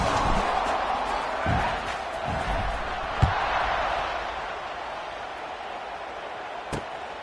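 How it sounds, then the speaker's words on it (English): Crowd in an American football video game makes a steady, broad stadium buzz that fills the background, broken by a few sharp thuds, with faint commentary woven through. "this crowd is buzzing after that last score"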